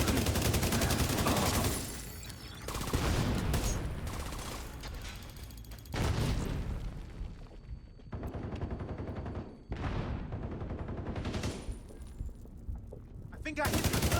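Sniper turret gunfire in a video game: loud bursts of rapid shots in several volleys, separated by short gaps, with a mechanical clatter under the firing.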